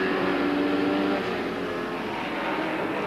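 Race cars run in traffic at the 1984 Miami IMSA Grand Prix, a dense, continuous engine roar that holds loud and steady with a brief tonal whine early on.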